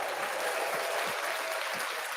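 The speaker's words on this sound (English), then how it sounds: "Round of applause for that." Sustained applause from a yarn-festival audience at a Rhinebeck gathering, steady dense clapping throughout at moderate level with no talk over it.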